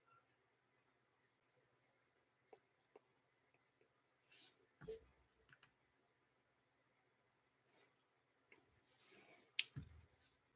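Sparse, quiet clicks of a computer mouse on a map, scattered singly and in small pairs across a near-silent stretch, close and crisp with no talking.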